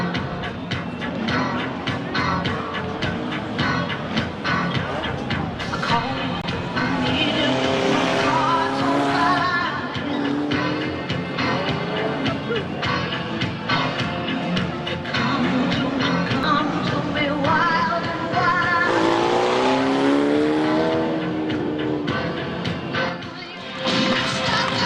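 2-litre hot rod race cars in a world championship at Ipswich speedway, engines revving hard and rising and falling in pitch as they pass through bends, with tire squeal and steady crowd-level noise underneath.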